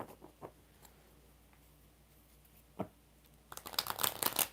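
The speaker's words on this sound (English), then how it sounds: "4 shuffles for JoJo" Tarot cards shuffled by hand: faint scattered taps and card flicks at first, then a dense, close riffling burst near the end, with no voices.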